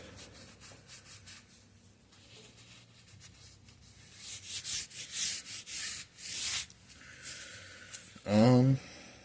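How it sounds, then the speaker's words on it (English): A glove rubs grime off a sharpening stone during sword making, giving several short, scratchy swipes that grow louder midway, with a brief voice near the end. "sometimes there's grime on the sharpening stone, so I just like go over it with my glove or hand."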